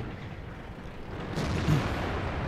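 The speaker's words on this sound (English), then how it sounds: "Two artillery shots just came in around me." Artillery shells from a World of Tanks battle land near an IS-3 Tier 8 Russian heavy tank, making a muffled, rumbling wash of booms that swells midway and holds steady at moderate loudness.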